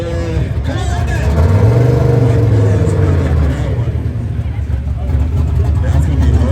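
Loud car engine at an exhaust competition held at Foxtober fest, a deep throaty roar rising into sustained revs and easing back, close and powerful, with crowd voices around it.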